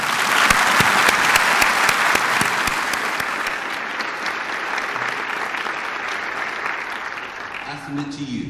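Steady, loud applause from a university audience at a State of the University address, sustained for several seconds before slowly thinning near the end.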